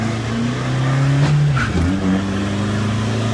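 A tuned car's engine revs hard at full throttle, a loud, steady roar with a brief pitch dip partway through, close by and with no talk over it.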